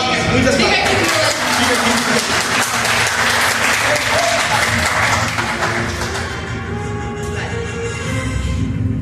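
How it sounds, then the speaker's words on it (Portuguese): Crowd at the Meet final applauding, loud dense clapping mixed with cheering and voices, sustained throughout and easing slightly toward the end. "Meus parabéns, palmas, muitas palmas."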